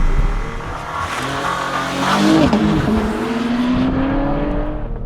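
A 2022 Porsche Panamera e-Hybrid launching hard under launch control, its engine revving and climbing loudly in pitch through a firm upshift, up close, with no talking.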